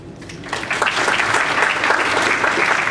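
A conference audience at the Midwest Freethought Conference bursts into loud, dense applause, rising quickly after a brief start and holding steady as a close, full wash of clapping.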